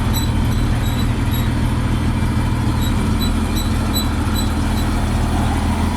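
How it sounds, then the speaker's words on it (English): A 1972 Chevy Custom 10 pickup work truck driving, a loud continuous low engine drone and road rumble from inside the cab, steady throughout with faint repeating squeaks overhead. "This is my work truck. The old Chevy work truck."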